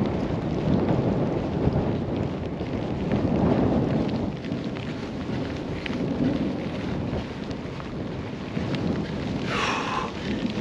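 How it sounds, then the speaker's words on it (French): Thunderstorm during an ultra-distance cycling trip: a low, sustained rumble of thunder rolls on throughout, mixed with wind buffeting the microphone and a steady wash of rain, with no talking. "On va encore entendre le tonnerre."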